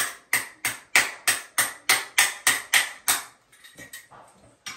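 A hammer taps out old drywall anchors in about a dozen sharp, evenly spaced knocks, loud and close, then a few fainter, scattered taps.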